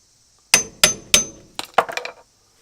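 A claw hammer strikes a socket extension during a brake pad replacement, three loud evenly spaced metallic blows followed by a quicker cluster of lighter clinking taps, close and without talk.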